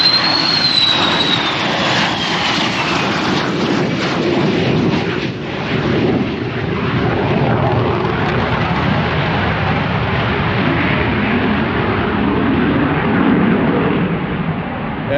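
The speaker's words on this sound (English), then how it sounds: "Is that an F-16? Yes." An F-16 fighter jet passes loudly at Oshkosh AirVenture, a powerful close jet roar with a thin whine fading early, sustained and rumbling across the whole stretch.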